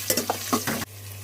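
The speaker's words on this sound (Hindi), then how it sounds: "अब टमाटर को अच्छी तरह से भून लेंगे हम।" Chopped tomatoes stirred into browned onions in a hot pan for a Hindi-Urdu white eggplant and potato recipe, a short burst of soft scraping and sizzling up close, then a steady low hum.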